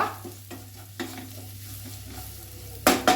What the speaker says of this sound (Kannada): ಇದು ಒಂಚೂರು ಫ್ರೈ ಮಾಡುವ.